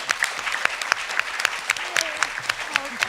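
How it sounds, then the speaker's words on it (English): Audience applause for a panel of speakers at an event, scattered claps moderately loud with individual hand strikes distinct, and a voice or two audible beneath. "can we get another round of applause for these panelists"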